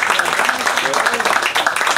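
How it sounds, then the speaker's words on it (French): Outdoor audience at a street inauguration claps steadily in a dense, continuous patter with scattered louder claps, fairly close and sustained across the whole moment, with murmured voices mixed in. "Bon applaudissement."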